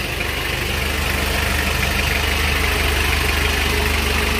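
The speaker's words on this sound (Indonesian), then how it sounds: "Kalau mesin jauh dari kata ngobos." A vehicle engine idles steadily with an original stock radiator, a continuous low rumble with an even hum and no revving.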